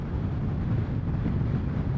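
Steady roaring wind buffets the microphone while a Royal Enfield Classic 350 motorcycle rides into a strong headwind, a dense low rumble with no breaks.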